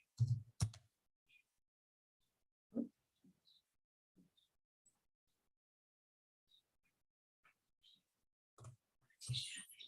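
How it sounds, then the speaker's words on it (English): Sparse, faint clicks of typing on a computer keyboard come as isolated taps and short bursts separated by near-silent gaps, with a few louder knocks at the start and end. "I'm typing in my computer"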